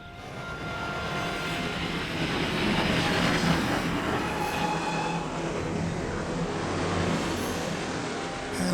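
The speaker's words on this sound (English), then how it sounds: "It's as far as we can travel by train." A train travels along railway tracks, giving a continuous rumbling roar that swells slightly midway and holds steady throughout, with no talking.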